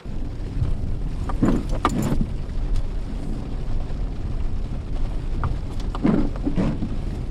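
Steady rain falls outdoors as a constant broadband hiss, with occasional louder splashes and knocks mixed in.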